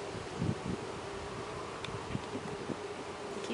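Honey bees in an open, sparsely populated beehive, a faint steady buzzing hum under soft rustles and light knocks, quiet and continuous throughout.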